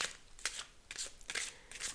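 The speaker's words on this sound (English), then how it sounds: "Let's start shuffling the cards." A deck of playing cards is shuffled close to a microphone, several crisp riffling bursts in quick succession over two seconds, with no voices.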